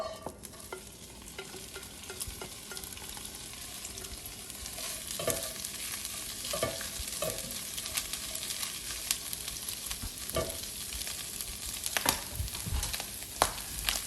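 Corned beef frying in an oiled, preheated skillet, a steady close sizzle and crackle running throughout, with occasional scraping stirs and sharper pops rising above it.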